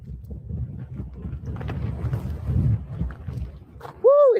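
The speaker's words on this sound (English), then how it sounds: "Woo, it's windy out here." Strong wind outdoors beside a former border wall near Tucson, Arizona, gusting against the microphone as a low, uneven buffeting rumble; a short voiced exclamation bursts out right at the end.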